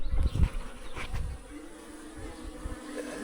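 Bees and attacking wasps buzz around a beehive. Close, irregular buzzing swells in the first seconds, then fades to a softer drone.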